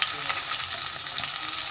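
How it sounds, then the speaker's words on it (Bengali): Steady, loud sizzling of Ganges river fish frying crisp in hot oil, a continuous crackling hiss with no voices. "আমার মাছ ভাজা হয়ে গেছে একদম কড়া করে ভেজে নিয়েছি গঙ্গার মাছ"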